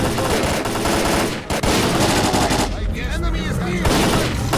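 Rapid automatic gunfire rattles loudly and almost without pause in a firefight in the 2008 video game S.T.A.L.K.E.R. Clear Sky, with shouted voices mixed into the bursts.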